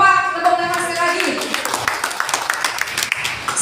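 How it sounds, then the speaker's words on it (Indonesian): An audience at a community gathering in Kebumen bursts into applause after a speaker's call, a dense wash of many hands clapping that follows a brief spoken line and continues steadily. "Tepuk tangan sekali lagi."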